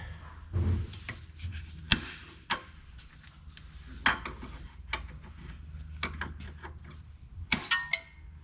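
A boot clamp on a BMW 3 Series inner tie rod is cut off with a tool, giving a quiet, close series of sharp metallic clicks and snips at irregular intervals, with little else around them.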